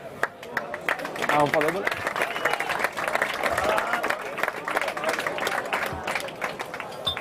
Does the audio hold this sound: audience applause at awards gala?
yes